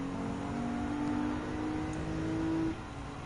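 Race car engine in Gran Turismo 7 holding a steady high drone with tonal whine, running continuously at close range before dropping slightly in level near the end, no voices.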